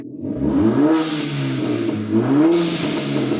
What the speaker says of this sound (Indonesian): Jadi apa namanya exhaustnya juga suaranya lebih keras nih kalau didengar.